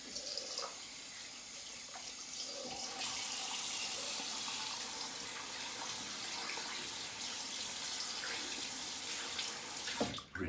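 Running tap water rinses shaving lather from a razor and badger brush at a sink, a steady close splashing flow that continues for about ten seconds and cuts off abruptly at the end.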